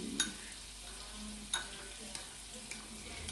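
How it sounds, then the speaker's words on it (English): Honey mustard chicken sizzles softly in a pan, a low steady frying hiss with a few light scraping stirs and clicks, quiet and close. "going to put a bit of it into my cooking chicken right now, the one that's sizzling in the background"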